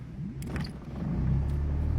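A boat's outboard motor sputters and catches, then settles into a steady low rumbling drone close by.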